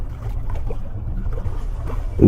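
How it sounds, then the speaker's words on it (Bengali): Cartoon sound effect of a wooden boat arriving at a riverbank landing at dawn after a storm, a continuous low watery wash and wind rumble close by, with a brief louder bump at the end. "নৌকা ঘাটে এসে লাগলো।"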